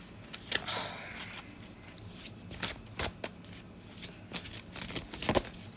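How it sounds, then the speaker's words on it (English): Tarot cards are shuffled by hand in repeated papery riffles and soft slaps, irregular bursts close to the ear over a few seconds, with no speech. "So let's pull some cards and see."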